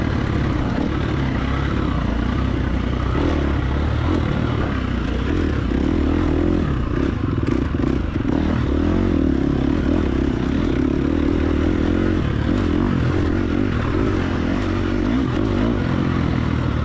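Dirt bike engine racing in a hare scramble, a steady loud drone with rising and falling revs from start to finish, no voices over it.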